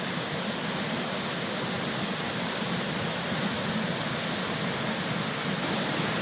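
Ball Mountain Brook in flood during Hurricane Irene, a steady loud broadband roar of rushing water that never lets up, with no voices.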